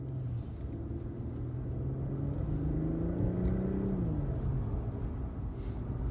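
An Infiniti Q60 Red Sport 400 in Sport Plus mode accelerates under a steady, heavy engine rumble heard from inside. The engine's tone climbs smoothly for several seconds, then drops as it shifts, with no talking.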